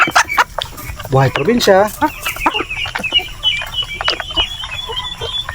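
Farm chickens cluck and squawk loudly and close by in a busy backyard flock kept alongside Pekin ducks at feeding time, with someone talking briefly over the birds.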